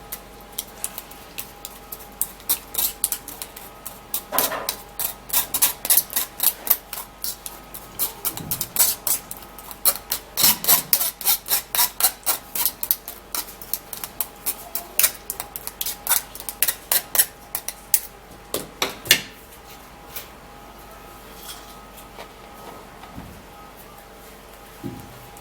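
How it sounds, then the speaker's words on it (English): A single piece of tomato being pressed and scraped through a metal sieve to strip out the seeds, giving a steady series of sharp, close scraping and clinking strokes at a fairly even rhythm. "sieve this out, and so that we can also get rid of the seed"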